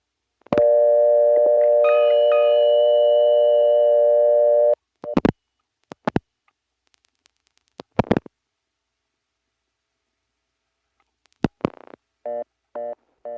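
Telephone line tones from a 1970s Rock Hill, South Carolina exchange after failed dialing: a steady multi-tone signal for about four seconds, then sparse clicks, and finally short rapid repeating reorder beeps near the end.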